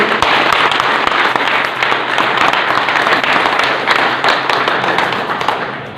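An assembled gathering at an Azamgarh civil court welcome event claps to honour the president and chief guest. Loud, continuous applause runs throughout with a dense patter of individual hand claps.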